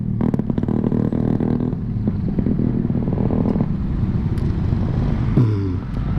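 A loud motorcycle passes on a street where a drag race is being held, its engine roaring close and continuously with rattling clatter, easing slightly toward the end.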